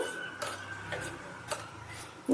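A spoon stirs turmeric spice paste loosened with lukewarm water for a Bengali mouri parshe fish dish, giving a few soft, light clinks and scrapes against the bowl at a steady pace, close and quiet with no voices.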